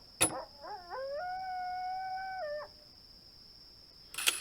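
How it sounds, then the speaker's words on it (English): Coyotes howl in Nancy Drew: Secret of Shadow Ranch, a rising, wavering multi-voiced howl that holds steady for about two seconds before dropping off, set against a constant high electronic tone with brief noise bursts at either end. "Sorry, coyotes. No chicken dinner for you tonight."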